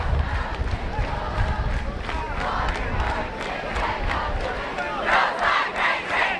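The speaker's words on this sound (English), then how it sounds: "And this crowd is fired up." Dense crowd roar at a high school football game, Gross Catholic versus Beatrice, swelling after a 92-yard touchdown pass, with steady loud cheering throughout and louder bursts near the end, voices mixed in.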